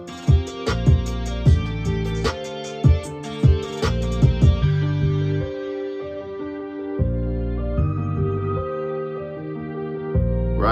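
Close of a hip-hop track verse where beat and bass give way to a looping guitar riff, with the drums and melodic guitar phrases repeating in a steady rhythm and no voices.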